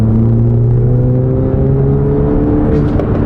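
A Volkswagen Jetta accelerates hard, its engine note climbing steadily in a loud, continuous pull heard from close by inside the car, with no talk over it.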